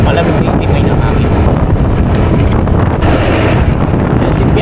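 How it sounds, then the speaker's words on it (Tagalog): A cool breeze blows in Silang, roaring steadily and loudly across the microphone as broadband wind noise with no breaks. "Malamig na yung simoy ng hangin."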